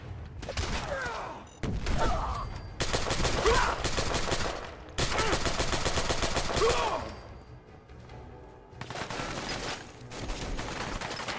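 Heavy gunfire from a big weapon in Fallout 4 rips out in long, loud sustained bursts, broken by brief pauses and a few separate blasts.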